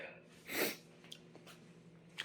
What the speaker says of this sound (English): I just sneezed like 10 times.